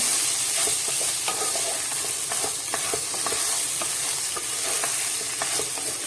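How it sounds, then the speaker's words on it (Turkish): Rice being sautéed in a pan for pilaf, a steady frying sizzle with repeated scraping clicks of a spoon stirring the grains. "İyi bir pilav yapmanın sırrı iyice kavurmak. Pilavınızı iyice kavurun."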